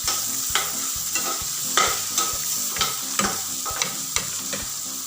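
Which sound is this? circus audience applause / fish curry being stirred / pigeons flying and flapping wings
fish curry being stirred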